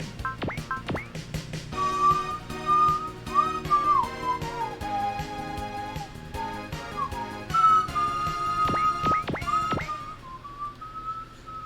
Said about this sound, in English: Sorry I'm whistling. Can't help it.